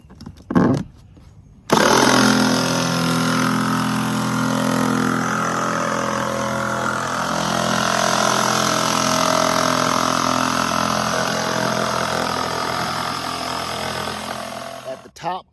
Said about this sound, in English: Now I'm just going to follow this line with my jigsaw.